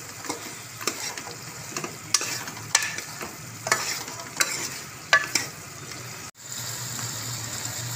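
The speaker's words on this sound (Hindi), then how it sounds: "और अब सारे मसाले को हम डाल के अच्छे से भूनेंगे।" Spices for chicken jalfrezi fry and sizzle in a pan while a spoon stirs them in repeated scraping strokes. The sound is close and moderately loud, then cuts off near the end.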